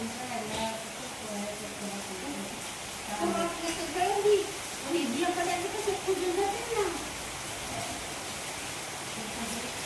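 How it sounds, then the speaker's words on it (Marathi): Afternoon rain falls as a soft, steady hiss in the background while people talk over it. "ह्यो टायमिंग कसे बरं का पावसाचा दुपारचा या टायमिंगला पाऊस येतो"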